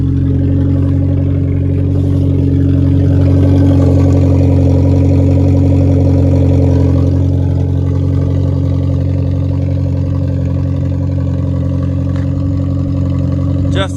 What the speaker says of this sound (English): It sounds kind of cool. Louder than what I want, but like for your muffler falling off,